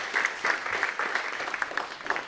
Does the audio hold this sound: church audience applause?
yes